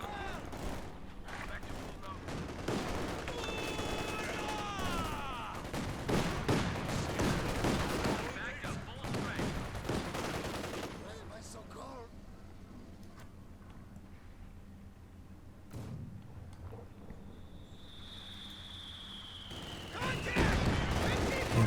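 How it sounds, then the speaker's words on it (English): Heavy mortar barrage in the game Company of Heroes 2, dense repeated booms and gunfire crackle at long range mixed with a machine gun position under fire, loud and busy, with someone talking over part of it. "There is the heavy mortar. It's starting to open up on this machine gun. Quite a long range barrage though."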